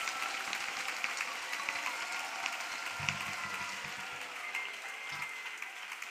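Crowd applause acclaiming Jesus Christ at a church prayer and intercession gathering, a continuous wash of clapping heard from some distance, fairly faint and steady throughout.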